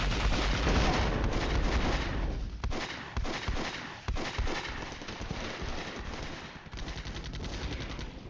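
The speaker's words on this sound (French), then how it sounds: "Il va falloir que je traite la ville à l'artillerie." Artillery and rapid gunfire in the Cold War wargame Flashpoint Campaigns, heard as a continuous loud rumble of blasts and rattling shots with repeated sharp impacts throughout.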